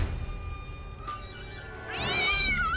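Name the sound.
cat meowing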